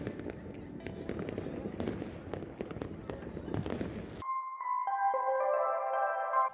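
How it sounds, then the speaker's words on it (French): Fireworks burst at night in Norwegian Lapland as a rapid string of sharp crackles and pops at moderate distance, giving way to a steady tonal whine at the end. "on a profité d'un joli spectacle de ces feux d'artifice"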